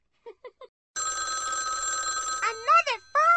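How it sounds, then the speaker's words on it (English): A telephone rings in a Sesame Street game: a steady electronic ring lasting about a second and a half, preceded by three short chirps and followed by a cartoonish voice speaking. "Another phone call."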